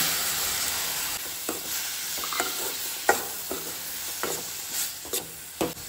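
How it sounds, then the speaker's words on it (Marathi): Finely chopped tomatoes go into a pan of fried onions for a Goan wild mushroom tonak, giving a steady sizzle with scattered clicks and scrapes of stirring and no talk. "आतां न्ही हितून हांव बारीक चॉप करून घेतलेले टमाट जे आसा पळय न्हू ते घालता।"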